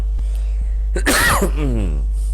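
A man coughs once, a harsh, throaty burst close to the microphone over a steady low hum, followed by a brief voiced trailing sound.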